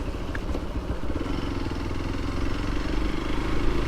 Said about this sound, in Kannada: ನಮ್ಮ ಸ್ಪ್ಲೆಂಡರ್ ಬರತೈತಿ